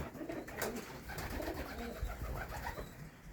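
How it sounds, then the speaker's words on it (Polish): Ornamental pigeons fill a loft with dense, continuous cooing, several birds overlapping at moderate loudness with no speech. "idziemy do gołąbków zobaczyć co się dzieje"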